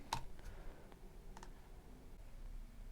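Sparse clicks of typing on a computer keyboard, a handful of quiet keystrokes spaced irregularly in a quiet room.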